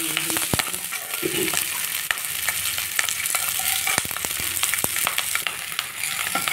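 Tomato pieces frying in a pan for an eggplant chutney, a close steady sizzle with sharp crackles and pops throughout, no talking.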